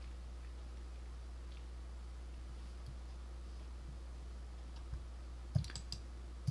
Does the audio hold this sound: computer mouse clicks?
yes